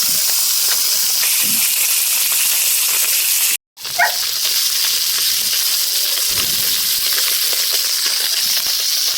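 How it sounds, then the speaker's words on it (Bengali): Leta and snakehead fish fry in oil on a clay stove outdoors on a foggy morning. The loud, continuous hiss and sizzle drops out for a brief moment, then carries on steadily. "এখন চলছে লেটা মাছগুলো ভাজা, এবারে ভাজছে শোল মাছগুলো"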